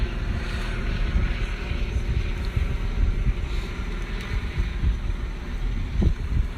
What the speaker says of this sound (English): We've got some wind picking up